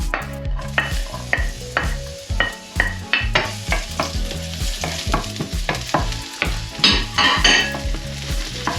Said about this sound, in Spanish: en una sartén honda ponemos un poquito de aceite para dorar los ajitos